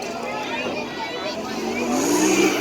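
UTV lapping a dirt course at a monster truck show in Donnellson, Iowa, its engine droning and revving steadily and growing louder toward the end, with crowd chatter underneath.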